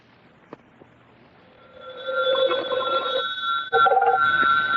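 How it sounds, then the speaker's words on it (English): An old-fashioned telephone bell rings loud and close in a long, steady trill, breaking off briefly and then starting again, with no talking over it. "when the telephone rang"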